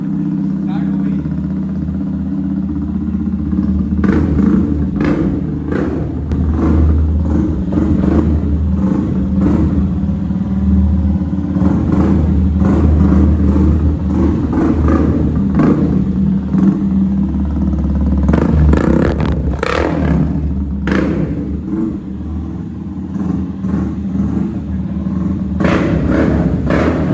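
Sports bike engine firing up and revving, deep exhaust rumble with repeated throttle blips and surges close by, heard under ongoing talk between people.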